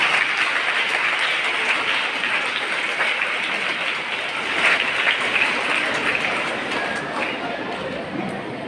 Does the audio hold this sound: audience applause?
yes